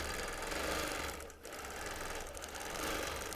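A sewing machine quilting a quilt runs with a fast, steady mechanical whir and needle chatter, dipping briefly about midway before resuming at an even pace, with no talking.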